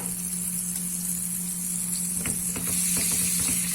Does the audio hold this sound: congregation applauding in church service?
no